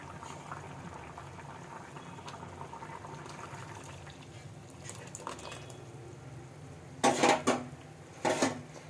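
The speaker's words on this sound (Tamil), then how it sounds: "நல்லா கொதிச்சிருச்சு" A masala gravy with mushrooms bubbles at a steady simmer in a pot, a continuous low burble. Two short bursts of metal utensil clatter come near the end.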